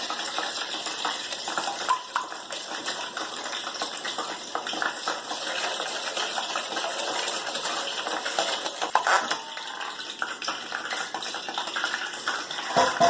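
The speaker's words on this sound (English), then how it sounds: "now we're going to whisk this together" A whisk beats ingredients together in a bowl, a steady rapid clinking and scraping of metal against the bowl that keeps on close by without a break and with no talking.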